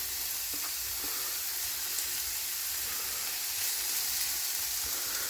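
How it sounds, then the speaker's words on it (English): Steady, bright sizzling of onions frying in a hot pan in a shed, continuous and fairly close, with faint stirring clicks and no talking. "I'm just going to put my onions in first. Sizzle, sizzle, sizzle."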